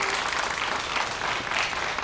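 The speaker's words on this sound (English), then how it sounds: "I think we need to give her a huge round of applause at this point." A short burst of audience clapping, a loud, dense round of applause lasting about two seconds without anyone speaking.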